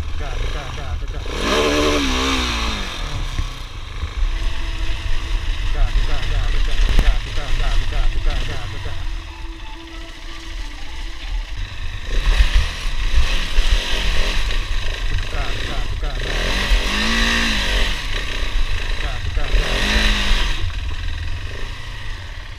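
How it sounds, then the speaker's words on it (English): A motorcycle engine in first gear bogs down and stutters while pulling uphill as the clutch is let out, loud and close throughout, with a person talking over it at times. "My bike is still bogging down."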